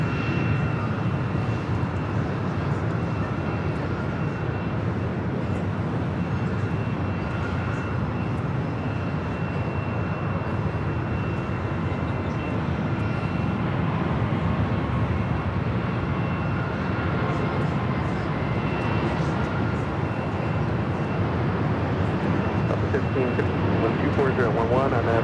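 An American Airlines Boeing 777 on short final to runway 24 right at Los Angeles International Airport gives a steady, broad jet engine roar that holds throughout, with a faint radio voice over it.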